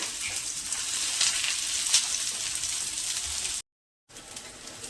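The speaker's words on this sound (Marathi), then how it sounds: "एकदम असे आपल्याला फ्राय करून घ्यायचे आहे." Methi (fenugreek) cutlet mixture fries in hot oil with a steady, dense sizzle that fills the whole stretch, broken only by a brief silent gap near the end, with no talking.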